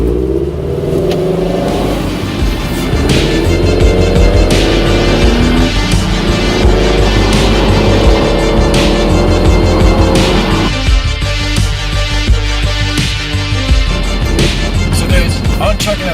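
A Porsche sports car in sport mode with traction control off revs and accelerates hard on a canyon road, engine note climbing through gears loud and close for the whole stretch, with a shift in tone near the end.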